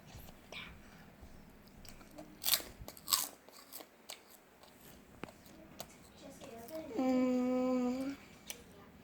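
A child bites and chews crunchy rice crackers close up, giving a few sharp crisp crunches with quiet chewing between, then a brief high-pitched vocal sound near the end.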